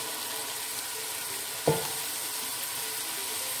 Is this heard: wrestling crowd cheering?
no